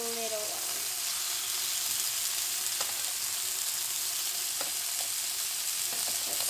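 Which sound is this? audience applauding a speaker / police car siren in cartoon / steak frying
steak frying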